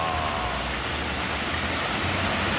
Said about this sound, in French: qu'il pleut encore plus